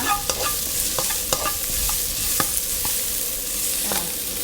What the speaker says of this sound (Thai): ตามด้วยพริกกับกระเทียมที่เราผัดไปแล้วนะไอ้ที่เราโขลกไว้แล้วเนาะหยาบใส่ลงไป ผัดพอให้หอมๆนะคะ